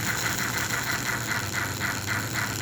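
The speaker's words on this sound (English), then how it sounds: "the manual chuff is what you hear when I fire this dude" Manual chuff effect from a Fusion model train sound system, a loud, rapid, regular chuffing pulse that repeats about four times a second over a constant mechanical hum, heard alone.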